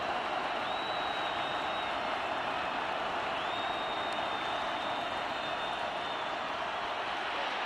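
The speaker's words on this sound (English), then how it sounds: "this crowd has gotten into it big time here in Pittsburgh" A dense, steady roar of a football stadium crowd in Pittsburgh during a Miami vs. Pitt college game, swelling with cheering and applause throughout, with a faint whistle-like tone gliding above the din.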